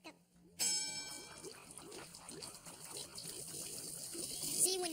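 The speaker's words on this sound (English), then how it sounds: "when you get it spinning, the water drains much faster" Water draining from two upturned bottles, one twirled into a spinning vortex, giving a run of quick rhythmic glugs and gurgles that build slightly in level after a brief quiet start.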